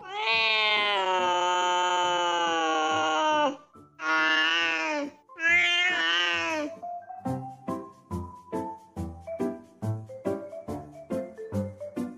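A Busok cat, an Indonesian native breed, gives several long drawn-out meows up close, then a run of short rhythmic chirping mews in quick succession.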